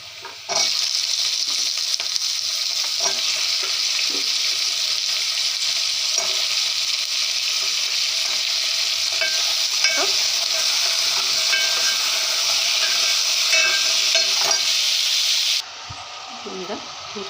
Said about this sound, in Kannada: ಈಗ ನಾವೇನು ಸೀಮೆ ಬದನೆಕಾಯನ್ನು ಹಚ್ಚಿಟ್ಕೊಂಡಿದ್ವಿ ಅದನ್ನು ಹಾಕೋಣ.